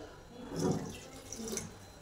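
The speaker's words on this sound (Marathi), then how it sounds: "वरचं ताटावरचं आपण गरम पाणी ह्याच्यामध्ये ओतून घेऊया" Hot water poured from a pan into a village-style chicken curry, a soft, low liquid splash swelling near the middle and trailing off, close and fairly quiet with no talking.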